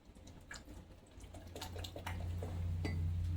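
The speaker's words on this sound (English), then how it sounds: "Let me stir it in." Spoon stirring a cottage cheese custard mixture in a bowl, with soft scraping and clinking strokes close by, building in loudness and ending in a steady low hum.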